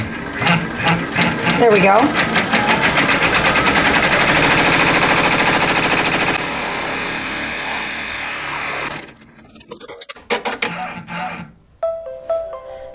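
A multi-needle embroidery machine runs loud and fast, stitching a patriotic table topper, then stops around nine seconds, leaving quieter handling noise. A person speaks briefly near the end.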